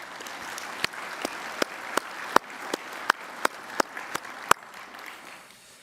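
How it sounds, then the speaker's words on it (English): Audience at a naval conference keynote clapping, a thin, sparse round of applause with distinct sharp claps spaced fairly evenly over a soft background, fading out near the end. "how about a little round of applause for that?"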